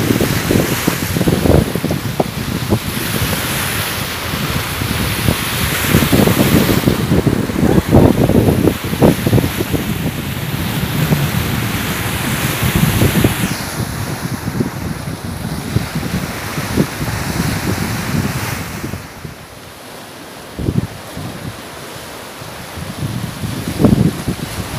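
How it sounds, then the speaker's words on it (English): Ocean waves roll and wind buffets the microphone aboard a summer boat cruise off North Cyprus, a continuous roaring surge with no talking. "You can see the tides of the ocean."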